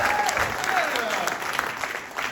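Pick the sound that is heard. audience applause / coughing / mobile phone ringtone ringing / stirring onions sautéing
audience applause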